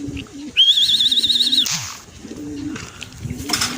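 A racing pigeon coos in short soft bursts close by, with a brief high electronic beep from a race timing clock and light rustling, during a training race in Agdangan, Quezon.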